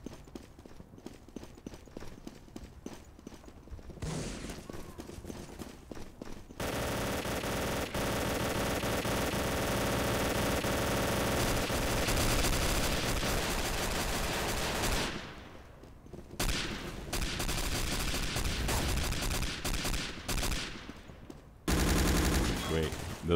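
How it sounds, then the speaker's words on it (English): Gunfire in the PC shooter Day of Defeat: Source, with rapid bursts of shots, dense, loud, sustained noisy stretches of battle and short quieter gaps between them. "I keep shooting at my own guys."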